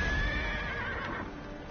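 A horse neighs in a video game, a clear whinny with faint hoof clops beneath, heard alone for under two seconds.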